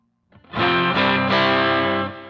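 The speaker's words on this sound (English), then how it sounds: "Just a simple crunch amp type with a delay and reverb and an option to add more gain" A single distorted electric guitar chord from a BOSS GT-8 crunch amp patch with delay and reverb rings out, crunchy and full, sustaining with a roomy echo before cutting off.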